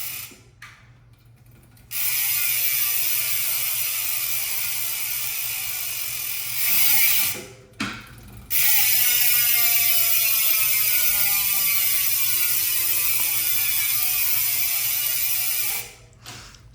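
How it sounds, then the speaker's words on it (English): Industry 9 mountain bike rear hub freewheeling, a fast, loud buzzing ratchet click that runs in long continuous bursts, pausing briefly between spins. "I've been in love with Industry 9 hubs. I think they have one of the best sounds in the business."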